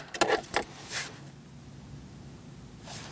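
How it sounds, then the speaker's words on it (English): Ignition keys in a 2006-2011 Chevrolet HHR 2.4L L4 jangle sharply as the key is turned off and back on. Two quick bursts are followed by softer clicks in a quiet cabin, with no engine running. "And now you're going to turn the key off. And turn it back on to make sure it worked."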